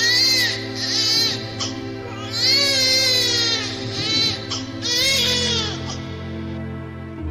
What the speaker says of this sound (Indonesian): suara tangis Ismail semakin kencang